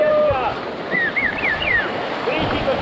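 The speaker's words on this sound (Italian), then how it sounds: "andiamo nelle onde, tutti avanti" River rapids on the Stura river during a rafting run: a steady broadband rush of churning whitewater and wind buffeting the microphone, with shouting voices and whistle-like calls over it.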